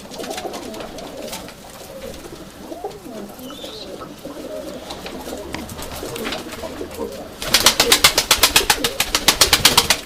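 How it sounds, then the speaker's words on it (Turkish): White Istanbul pigeons coo softly amid background noise, then a loud burst of rapid, rhythmic wing flapping close by fills the last few seconds. "Kanat seslerini duyuyorsunuz arkadaşlar bakın."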